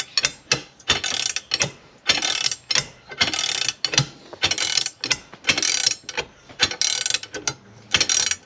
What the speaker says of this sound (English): I can undo those now because that'll be loose enough.